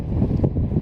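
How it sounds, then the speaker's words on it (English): Strong wind buffets the microphone at a canoe campsite on a shore, a steady low rumbling roar with gusty swells and no pause for the whole moment. "It's been extremely windy today."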